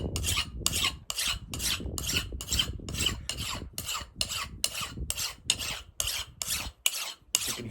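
Steel file rasping along an axe blade in quick, regular back-and-forth strokes, about two per second, close and clear with no voices.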